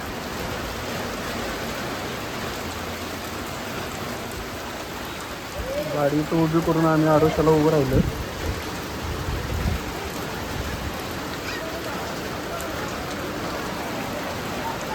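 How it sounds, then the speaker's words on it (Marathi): Steady heavy rain pours throughout in Malvan on the Konkan coast, a dense hiss from start to finish, with a person speaking briefly partway through. "मालवणमध्येच असा तुफान पाऊस सुरू झाला"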